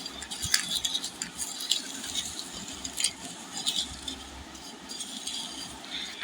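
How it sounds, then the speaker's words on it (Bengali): Fried green chilies are lifted out of a pan of oil with a metal utensil, producing light clinks, taps and scrapes against the cookware in a quiet kitchen, with no talking. "এখন আমি মরিচগুলো তুলে নেব।"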